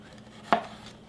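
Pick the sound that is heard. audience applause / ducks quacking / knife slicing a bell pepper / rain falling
knife slicing a bell pepper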